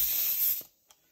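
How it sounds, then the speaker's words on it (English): An airbrush spray gun loaded with gray paint gives a short close burst of steady airy hiss that cuts off abruptly, followed by near silence and a faint click. "You have your spray gun, you have whatever spray gun you have with a gray color mixed on it."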